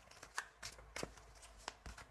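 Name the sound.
shuffling tarot cards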